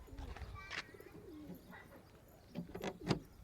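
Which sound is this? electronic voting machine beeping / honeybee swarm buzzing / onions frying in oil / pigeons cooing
pigeons cooing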